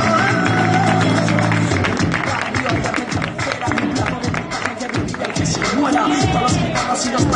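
An audience at a live street protest in Murcia applauds a poet as she is called up, a dense, sustained wash of clapping with crowd noise and some music fading out at the start.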